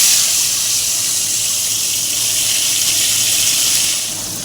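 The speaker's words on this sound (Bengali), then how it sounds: "এবার আমি আগের থেকে কেটে ধুয়ে লবণ হলুদ মাখিয়ে রাখা পমফ্রেট মাছগুলো আমি কড়াই ছেড়ে দিচ্ছি।" Pomfret fish rubbed with salt and turmeric frying in hot oil in a wok, giving a loud, continuous hiss like rushing water that stays steady throughout and eases slightly at the end.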